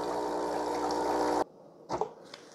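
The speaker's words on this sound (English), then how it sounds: "Because we've got descaling agent coming out of both of them." An espresso machine pumps descaling agent through its steam wand, a loud steady buzzing hum that cuts off abruptly, followed by a couple of short gurgling spurts of liquid.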